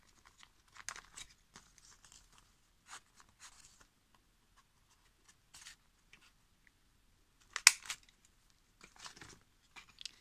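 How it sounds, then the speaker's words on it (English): Sparse, faint scissor snips and crisp paper crinkles as envelope paper corners are cut, in small clusters with quiet gaps, one sharper crunch standing out near the end. "And with your scissors or with some circle punch, punch those corners."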